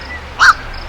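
A gull and a heron squabbling over food at a river during an alewife run, with one short, loud harsh squawk rising sharply over low background ambience.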